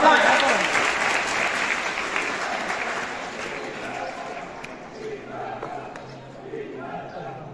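Crowd applause at the BSF border parade at Nadabet, Gujarat, near the India-Pakistan border, loud dense clapping at first that gradually thins and softens, with announcer speech and crowd noise carrying on beneath it.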